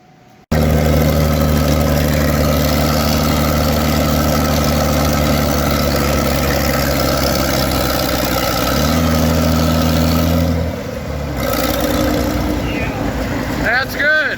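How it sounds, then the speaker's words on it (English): A Farmall 560 tractor with a 5-inch straight pipe idles loud and close in a steady, throbbing rumble, the pitch shifting slightly partway through, with a person talking over it near the end. "sounds like a pulling tractor. I forgot the straight pipe on there."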